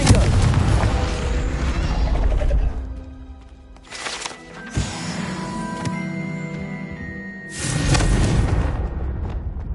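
The Confringo blasting spell in Hogwarts Legacy sets off several loud booming explosions with a ringing, crackling magical tail between the blasts.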